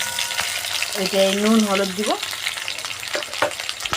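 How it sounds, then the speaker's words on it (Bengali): Big chunks of potato fry in oil in a pan, hissing steadily and fairly loudly from close by. Someone speaks briefly partway through. "বড় বড় আলু আমি কাটিয়ে দিয়েছি আর ভাজছি তেল দিয়ে"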